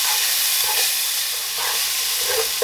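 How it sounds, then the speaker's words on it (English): Grated garlic and onions frying in a hot pan give a loud, steady hiss close up, with faint stirring scrapes now and then. "we're just going to stir this around for about 30 seconds with the onions."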